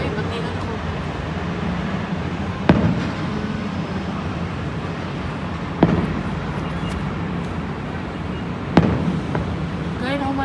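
Fireworks bursting at a yacht party near Pasay, three sharp distant booms spaced a few seconds apart over a steady rumble of crowd and traffic noise, with people talking throughout.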